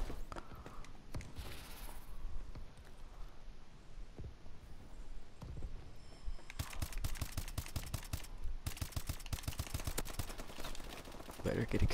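Rapid bursts of MK14 rifle fire in Call of Duty: Advanced Warfare, dense repeated shots over the second half after a quieter stretch, with a player talking over the game.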